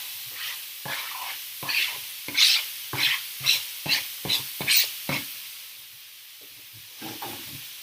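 Bacon added to a hot pan with a vegetable mix sizzles and crackles in a run of sharp, spaced bursts, likely from stirring, loud in the middle and tapering to quieter hissing pops toward the end.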